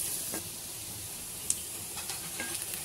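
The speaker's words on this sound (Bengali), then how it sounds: "আমি পেঁয়াজগুলো লালচে করে ভেজে নিচ্ছি।" Onions frying in oil until reddish, a steady close hiss and sizzle with a few faint clinks of stirring now and then.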